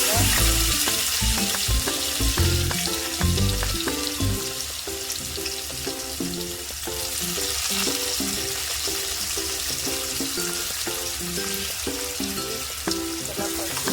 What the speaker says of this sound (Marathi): नंतर त्यामध्ये टाकायचा बारीक चिरलेला कांदा.